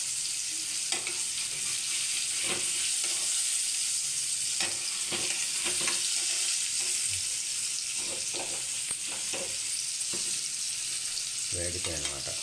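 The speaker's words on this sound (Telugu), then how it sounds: "ఓకే, నూనెలో వేసిన తర్వాత కొంచెం వేగనివ్వాలి." Cubes of paneer sizzling and frying in hot oil in a pan, giving a steady crackling hiss with occasional stirring clicks near the end.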